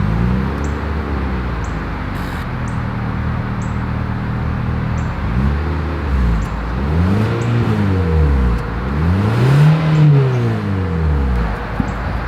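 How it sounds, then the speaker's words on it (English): Exhaust of a 2023 Mitsubishi Outlander at idle, then revved several times, each rev swelling and falling back in a smooth whirring drone close to the tailpipe with no voices. "As always, here is that exhaust clip."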